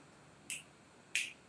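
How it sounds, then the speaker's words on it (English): Crisp finger snaps ring out during a Hindu puja ritual, two sharp, isolated clicks about two-thirds of a second apart in an otherwise quiet room. "Snap 3 times to the left."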